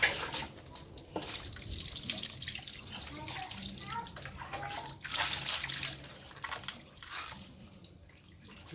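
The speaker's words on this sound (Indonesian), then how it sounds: "Ini udah tahap bilas ya mas ya?" Running water rinsing a cat during a grooming session, a steady splashing and trickling stream throughout, with people talking over it.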